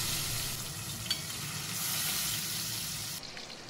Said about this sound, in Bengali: তো প্রথমে কড়াইতে আমি সর্ষের তেল নিয়ে নিচ্ছি, গরম হয়ে গেলে মাছগুলো ভেজে নেব।